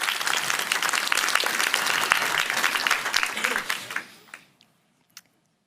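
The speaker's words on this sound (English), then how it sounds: "Very warm applause again for you." Warm audience applause at the NATO Public Forum welcoming the Deputy Secretary General, dense clapping that holds steady and then thins and fades out, leaving a few last scattered claps.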